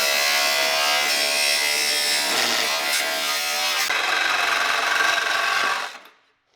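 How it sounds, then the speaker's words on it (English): A power tool cuts through the steel body panels of a BMW E46, giving a loud, steady high-pitched whine that holds for about six seconds before stopping abruptly, with no talking. "just got to do one more cut really and then try and pry it off the seams where we've cut"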